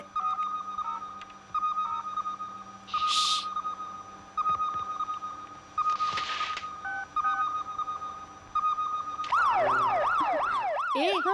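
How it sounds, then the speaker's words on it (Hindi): A fire engine siren in a Hindi-dubbed Telugu film wails with repeating tones and electronic beeps, growing into a rapid, rising-and-falling yelp near the end. "ये फायर ब्रिगेड की आवाज है।"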